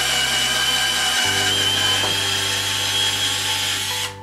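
A loud, continuous whine of a power drill with a 2.7 mm bit biting through a hard cake-structure plate, with a pitch shift partway through as the bit works.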